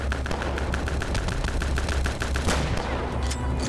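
Rapid, evenly spaced gunfire bursts from Return to Castle Wolfenstein over a constant low rumble, with a heavier impact around 2.5 seconds as the player is hit.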